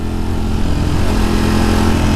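A Ducati Streetfighter V4S with an aftermarket SE Project exhaust runs close and loud, its engine note steady and throaty throughout with no talk over it.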